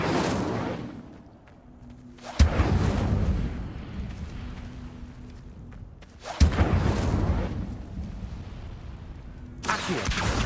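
Incendio fire spell cast in Hogwarts Legacy, three sudden whooshing bursts of flame, each with a sharp onset followed by a sustained roaring rumble that slowly fades.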